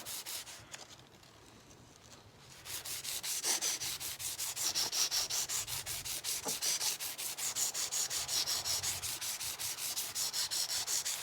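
Abrasive tape sanding a tarnished Honda CL 350 fork leg, a fast steady back-and-forth rasping close up after a quieter start, continuing evenly without talk.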